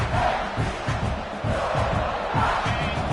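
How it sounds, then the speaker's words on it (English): A stadium crowd at a college football game between Arizona State and South Carolina roars continuously, a dense, loud, sustained wash of cheering voices. "Listen to the crowd energy here in the early going."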